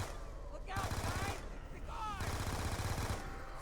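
Rapid automatic gunfire from a gun in Black Ops 2 Zombies, two sustained bursts of loud rattling shots with a short pause between, and a voice talking over them.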